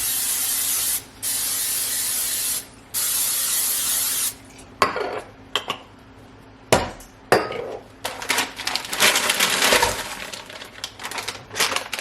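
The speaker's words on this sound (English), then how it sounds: "I'm going to spray all my pans with the olive oil spray." Olive oil cooking spray hissing onto pans from an aerosol can in a home kitchen, several loud bursts separated by short pauses, followed by clattering and rubbing of pans and utensils.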